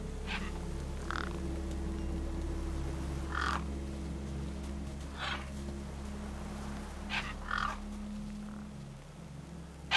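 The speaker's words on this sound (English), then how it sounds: "No way I was going to get between those birds and their feast." Crows cawing over a corpse in the game Beyond a Steel Sky, a few short harsh caws spaced out over a low constant ambient hum, moderately quiet.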